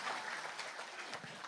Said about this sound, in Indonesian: tepuk tangan tuh kita